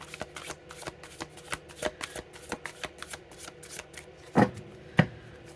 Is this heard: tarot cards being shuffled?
yes